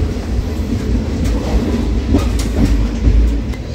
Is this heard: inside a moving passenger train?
yes